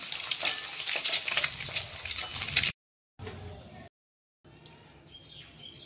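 Dry red chillies, bay leaf, cardamom, cinnamon and cloves hitting hot oil for an egg butter masala, giving a loud, dense sizzle that cuts out abruptly, returns briefly, then resumes softer with faint chirps in the background.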